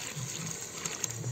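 Water is poured from a metal kalash pot for washing a face, a brief, close, steady splash and gush lasting a moment.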